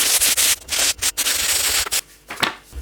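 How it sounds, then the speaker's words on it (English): Sandpaper rubs by hand over dried wall filler in quick, loud back-and-forth strokes, close up, with brief gaps between passes and a softer final stroke. "I've got my sanding paper here."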